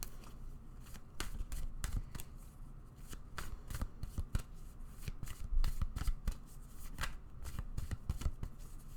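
A deck of tarot cards being shuffled close up, with repeated crisp riffles and flutters running steadily throughout and no voice.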